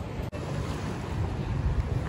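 Steady wind and surf wash along a beach in the Maldives at evening, a broad continuous roar with wind buffeting the microphone and no talk.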